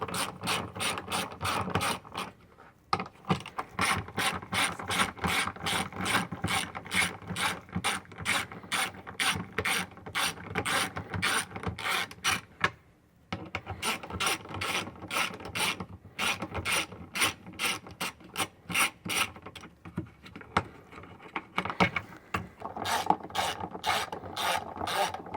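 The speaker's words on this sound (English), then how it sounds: "we're going to take our 10mm socket here" A 10mm socket on a hand ratchet turns out a bolt on a Polaris Xpedition Gen 2 dash, a rapid steady clicking of the pawl in long runs, paused briefly twice, close and clear with no talk.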